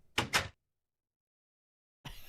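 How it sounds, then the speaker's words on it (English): A door in a video game gives two quick, close whooshing bursts, then silence, followed by a low rumbling sound near the end. "He's got a new door sound."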